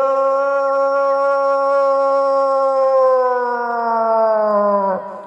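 A voice imitates a dog howling, one long sustained wavering howl that slowly falls in pitch and cuts off near the end, loud and close with no other sound.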